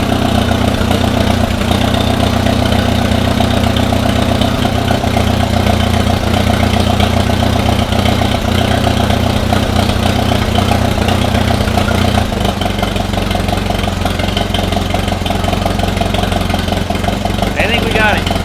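A repaired piece of equipment's engine idles steadily and loudly at close range for the whole stretch, a constant low rumble with a slight shift in tone partway through.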